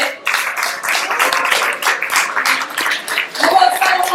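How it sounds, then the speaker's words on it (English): A panel audience applauds with a dense, steady patter of clapping lasting several seconds, loud and fairly close, with a few voices mixed in. "Can we give a round of applause for our amazing panelists today?"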